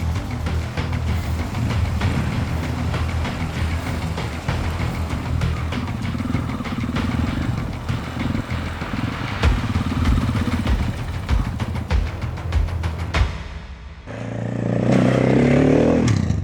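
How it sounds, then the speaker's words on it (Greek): Off-road motorcycles on an adventure ride in Jordan, taken one at a time across rough riverbed ground in a gorge, their engines rumbling and revving steadily with clattering and scraping, closer and louder toward the end. "Παίρναμε ένα-ένα τα μηχανάκια τώρα."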